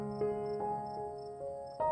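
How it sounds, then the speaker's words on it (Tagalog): Crickets chirp steadily through a quiet night scene, a soft continuous trill with faint repeating pulses, close and alone with no talking. "ang mga kuliglig ay patuloy na humuhuni para bang walang nangyari"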